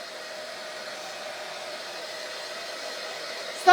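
A hair dryer blows steadily and close by to dry a freshly made craft item, a constant airy whoosh with a faint hum, running alone without a break before a brief bump at the very end.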